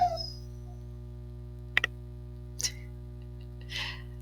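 Late at night indoors, dogs let out a few short, high whimpers and yips with long pauses between them, faint against a steady electrical hum.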